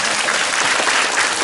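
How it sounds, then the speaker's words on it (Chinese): Dense, even applause from participants at a mindfulness education workshop, many hands clapping together at a steady, fairly loud level for the whole stretch with no voices standing out. "这几位朋友，我们要掌声鼓励一下啦。"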